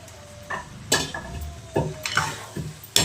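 Cauliflower tossed into a pan and stirred with a spoon for an aloo cauliflower curry, a few soft scraping knocks and metal clinks over a faint sizzle, close and quiet.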